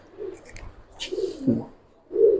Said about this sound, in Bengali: সিলভার বেজি এখানে এই যে আরেকটা পেয়ার আছে